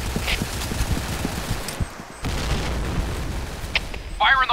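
Grenade blast amid rapid gunfire in a shooter video game, dense bursts of close shots and booms with a brief lull before the firing resumes, and a voice shouting briefly near the end.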